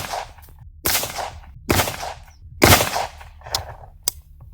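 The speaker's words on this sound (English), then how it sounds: "Okay, shots 14 through 18 of M855 A1." M855A1 rifle rounds fired at a Level III+ armor plate outdoors: about five loud sharp shots spaced roughly a second apart, each with a brief ringing tail.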